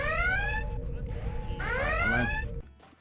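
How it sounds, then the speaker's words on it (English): An alarm sounds during a game stream, a loud rising-and-falling electronic siren wail with bright repeating tones over a dense low background that drops off at the end. "gonna turn the alarm off so I can figure this out and find out why"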